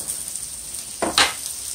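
Steak-ums frying in a pan give a steady close sizzle, with a louder sputtering burst near the end as the thin meat slices cook.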